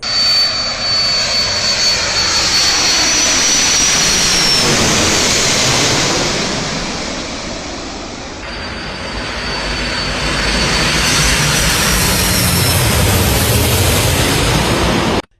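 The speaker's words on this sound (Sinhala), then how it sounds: "අඩි 4000ක පමණ අඩු උසකින් ඉතා සෙවින් පියාසර කළ ගුවන් යානය දිස්වුණේ මෙලෙසින්" A fixed-wing airplane passes low overhead at roughly 4000 feet before an emergency landing near Katunayake. Its engine roar swells, eases, then rises again in a loud, continuous, sweeping drone.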